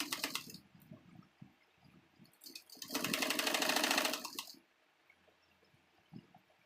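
Sewing machine stitching a princess-cut blouse, a steady mechanical whirring run of about two seconds, preceded by a short burst and framed by quiet handling noises, close and fairly loud.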